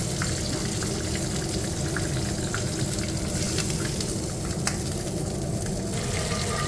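Food sizzles steadily in hot oil, a loud continuous crackling hiss with occasional sharper pops and light stirring, while frying for Kuwaiti zubaidi fish with daqqus.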